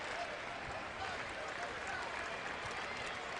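Home crowd at a Colorado Buffaloes college basketball game in Boulder against Sacramento State, applauding and cheering as a lopsided win winds down, a steady dense roar of clapping and voices throughout.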